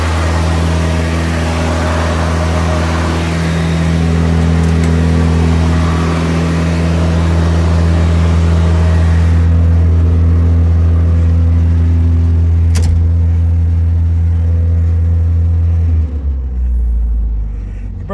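Engine of a 1976 MG Midget running right after its first start, a loud, steady close-up rumble with a slight swell partway through, cutting off near the end.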